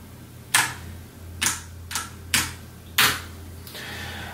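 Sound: typing on a computer keyboard

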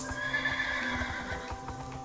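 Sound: horse neighing and hooves in a video game

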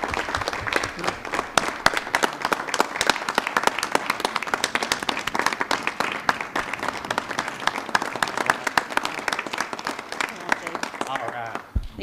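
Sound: audience applause at city council

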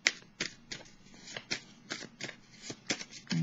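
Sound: tarot cards being shuffled

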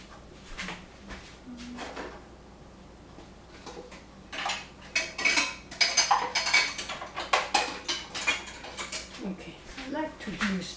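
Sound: ceramic spoons clinking

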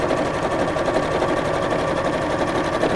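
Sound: sewing machine stitching a messenger bag

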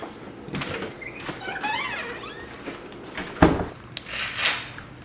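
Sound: door being closed

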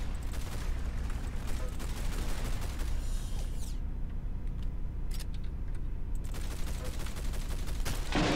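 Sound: gunfire in Roblox video game Arsenal

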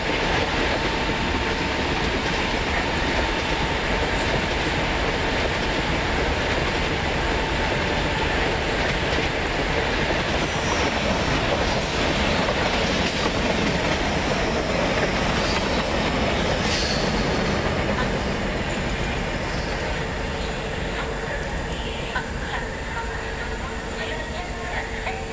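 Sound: express train passing in Microsoft Train Simulator video game

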